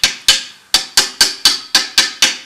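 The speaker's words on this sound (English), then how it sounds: "take this brass hammer. All right. And tap that in there until that" A brass hammer taps a thrust bearing into place during a transmission rebuild, nine sharp, evenly spaced metallic knocks, close and loud, each ringing briefly.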